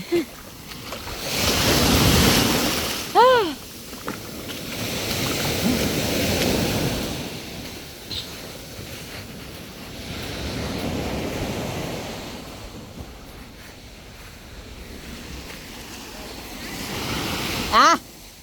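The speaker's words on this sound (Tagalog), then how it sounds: "Lalaki alon." Ocean waves break and wash onto a natural beach at Mataró outside Barcelona, a rolling surge that swells and recedes in repeated cycles, with wind noise across the microphone and a few brief voices between the breakers.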